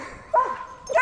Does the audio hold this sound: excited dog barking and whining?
yes